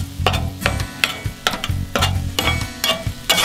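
Pork and onions frying in a soup pot while a spoon stirs them in regular scraping strokes, about two per second, loud and close over a constant sizzle, with no voices.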